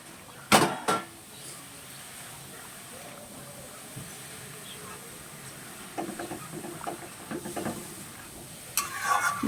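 Fried tilapia fish is stirred into a simmering curry, giving sparse, fairly faint spoon scrapes and knocks against the pot over a soft bubbling background.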